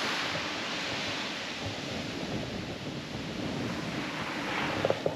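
Ocean waves at a beach in Hawaii, a steady broad roar of surf with continuous wash and no talk, loud and even throughout.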